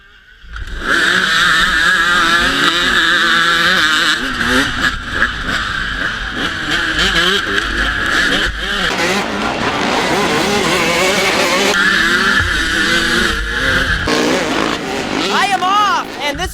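Motorcycle fitted with studded tyres racing in a winter scramble, engine revving hard and loud close by, rising and falling through gear changes, with a voice talking over it.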